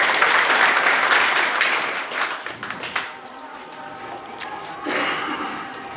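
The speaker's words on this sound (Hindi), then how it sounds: "ताली बजाकर।" A crowd at a school inauguration ceremony in Ghailadh applauds loudly, the dense clapping swelling at first and then thinning into scattered claps, with a short late burst of clapping.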